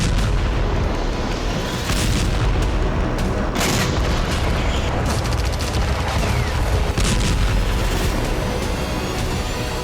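A dense, continuous barrage of heavy artillery shell, MLRS rocket and drone-dropped explosive blasts rumbling together in the Russia-Ukraine war, with sharper bursts cutting through now and then, loud and close.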